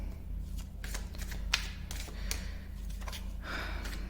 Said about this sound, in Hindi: एंड मैं कार्ड्स आपके सामने ही शफल करूंगी